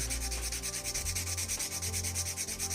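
A reed qalam tip being rubbed back and forth on a surface to shape it makes a quiet, rhythmic scratchy rasp, with about ten quick strokes and no voices.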